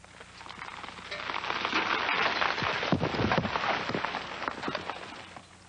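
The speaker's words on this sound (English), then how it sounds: "This surprise downpour came in the San Gorgonio Pass" Sudden summer downpour of rain in the San Gorgonio Pass, a steady broadband wash of falling rain with denser bursts midway, moderately loud and continuous with no voices.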